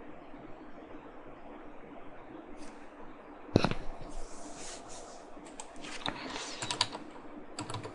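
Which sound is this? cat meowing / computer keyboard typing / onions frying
computer keyboard typing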